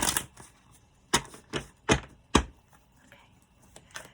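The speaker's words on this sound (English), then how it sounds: "I'm going to give them one more shuffle here real quick." A deck of Twin Flame oracle cards is shuffled close by in a quick burst of sharp riffles and taps, about six distinct slaps spread over a few seconds with quiet gaps between them.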